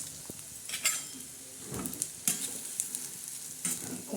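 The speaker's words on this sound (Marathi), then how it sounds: "आता शाबदाना आपण त्याच्यावर टाकणार आहोत आता आपण हलवणार आहोत" Sabudana tossed into hot oil in a kadhai and stirred, with scattered soft scrapes and brief sizzling bursts at moderate loudness, no talking.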